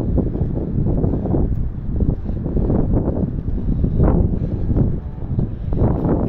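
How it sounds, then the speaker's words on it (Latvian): Strong wind on a blustery day in Jelgava, near a pedestrian bridge, buffets the microphone in loud, continuous rumbling gusts that swell and ease without pause. "Diena vējaina."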